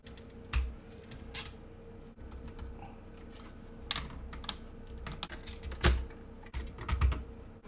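Plastic clips clicking and snapping as parts of a Transformers golden lion robot toy are fitted together, a few sharp close clicks and taps scattered through fairly quiet handling noise.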